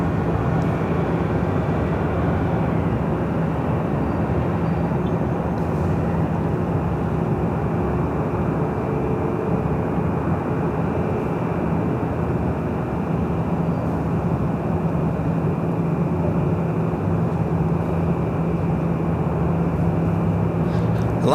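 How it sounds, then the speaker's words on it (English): A Boeing 757-200 sports charter at LAX gives a continuous, even jet-engine roar with a faint steady whine, fairly loud and unbroken throughout. "757-200 heading to San Antonio, Texas, flight 8942."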